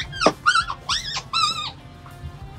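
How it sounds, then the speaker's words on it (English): Dogs sound off outdoors in Albuquerque, with a short sharp bark and then several drawn-out whining yelps, fairly close and fading toward the end, with no talking. "There's dogs out there."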